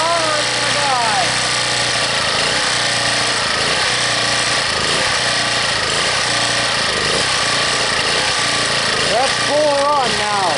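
A Harbor Freight generator runs in 15-below cold after a cold start with no choke, its engine a loud, steady drone that surges and hunts while warming, with a voice talking over it at the start and end.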